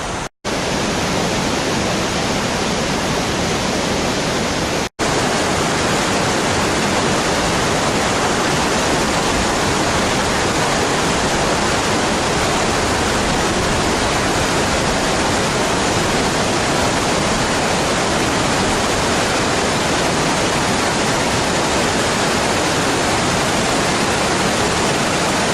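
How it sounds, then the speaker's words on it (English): A creek rushes through the Columbia River Gorge at Shepherd's Dell, a steady, dense, loud roar of flowing and falling water lasting the whole time, with no voices. "creek that comes through this gorge."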